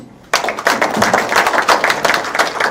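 Audience applause at a policy forum on overseas Koreans, breaking out suddenly and continuing as steady, dense clapping close by.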